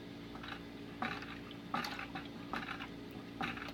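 Honey pours into a fermenting vessel for a 10-pound batch of maple mead, making faint, soft liquid splashes that come in a few spaced bursts over a low background.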